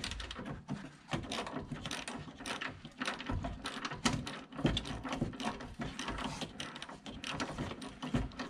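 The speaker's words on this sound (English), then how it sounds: "3/8 inch ratchet is taking the first one out easily" A 3/8 inch ratchet backs out 13mm strut bolts on a 2007 Chevy Equinox front strut, producing close, repeated clicking bursts with metallic mechanical rattles and short pauses between strokes.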